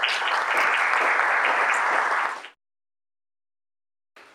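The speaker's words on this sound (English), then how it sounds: "So give those guys a big round of applause." An audience bursts into full, even applause for about two and a half seconds, then cuts off abruptly into silence before a faint return at the very end.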